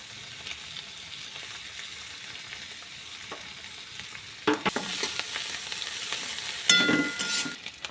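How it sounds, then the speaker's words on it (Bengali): Two eggs frying lightly in a pan with chili powder, a soft continuous sizzle that swells into louder crackling and stirring bursts in the second half, with no voices. "ডিমটাকে হালকা ফ্রাই করছে"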